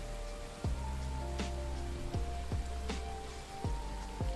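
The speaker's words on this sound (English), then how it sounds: "I also don't know if y'all like the rain noise." Soft, steady rain falls as a gentle background wash under a slow, calm musical tune with repeating low notes.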